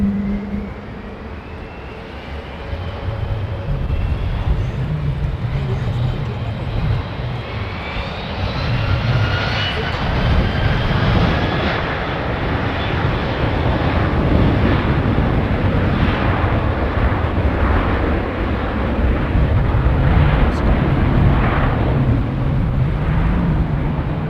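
A widebody airliner with CF6 engines departs runway 09, a loud, sustained jet roar that swells and holds steady across the whole stretch, with a rising whine layered over the deep rumble.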